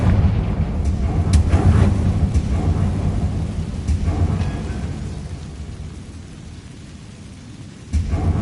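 A fire-blast spell in Hogwarts Legacy erupts in a loud, rumbling boom that rolls on and slowly fades over several seconds, with a sharper crack near the end.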